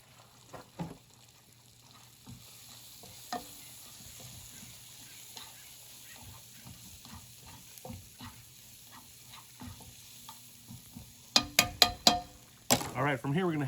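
Mushrooms with caramelized shallots frying in a pan, a steady low sizzle broken by scattered scrapes and stirring knocks, growing busier and clattering near the end; a person talks over it.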